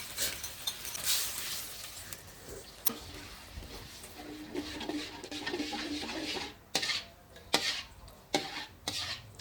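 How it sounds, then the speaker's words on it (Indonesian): Black pepper beef stir-fry being stirred in a pan, a utensil scraping and clinking against the metal in repeated close strokes over a light sizzle. "Oke, kita aduk-aduk semuanya."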